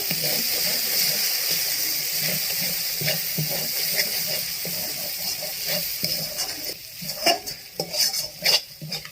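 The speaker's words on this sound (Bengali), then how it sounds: "এবার দিয়ে আমি ভালো করে নেড়ে নেব" Spice powders including turmeric and red chili are stirred in a pan for duck egg kosha, giving a soft continuous sizzle with scraping and clinking of the spoon that grows busier toward the end.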